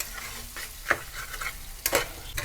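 Bhetki fish curry with turmeric and tomato sauce being stirred and fried in a pan, a close sizzle broken by a few brisk scrapes of the spatula, with no talking.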